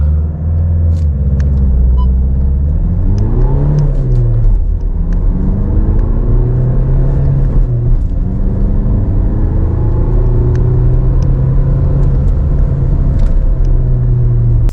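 A 2023 SEAT Ateca with the 2.0 TDI diesel launches hard from a standstill and accelerates toward 100 km/h. The engine drones loud and steady while it climbs through the gears with several shifts, and no voices are heard.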